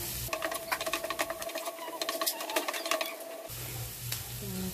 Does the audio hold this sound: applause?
no